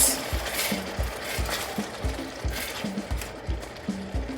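Blended onions fry with salt in oil over medium heat in a stainless steel pot, a steady sizzle broken by regular scraping stirs of a spoon against the metal, close and continuous with no talk.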